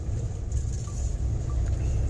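Car driving along a highway road, a steady low rumble of engine and tyre noise heard from inside the cabin, moderately loud and continuous.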